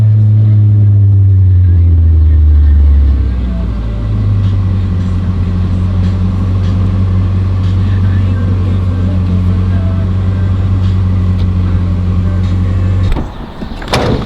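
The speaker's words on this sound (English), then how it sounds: "I'm warming up the Miata right now." A Mazda Miata idles while warming up, with a loud, steady low engine drone that shifts pitch early on and runs continuously close by, ending with a brief thump near the end.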